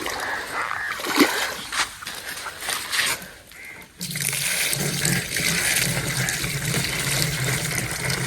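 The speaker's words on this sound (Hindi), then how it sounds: "ये पानी की ड्रमी भर कर जा रहा है, 22 लीटर वाली है ये ड्रमी" Water from a tubewell splashes into a 22-litre drum as it fills, first in irregular gushing bursts, then in a steady loud rush of pouring water, with some voices in the background.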